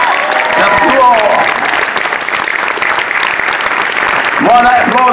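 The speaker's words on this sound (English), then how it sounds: "While that applause is going" A theatre audience at a live Beauty and the Beast show in York applauds the musicians. The clapping is loud, dense and sustained throughout, with brief voices breaking through the crowd noise.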